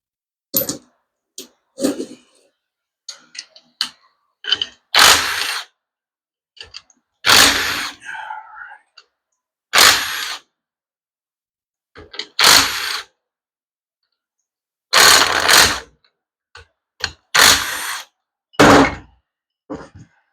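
A power tool unfastening bolts on a C4 transmission pump, with repeated loud short whirring bursts separated by silences and small clicks and clanks of parts.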